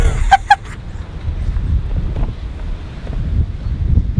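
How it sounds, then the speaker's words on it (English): Strong wind buffets the microphone on a sailing boat in Greece in a continuous low roar, with a few brief clicks near the start. "It's currently very windy."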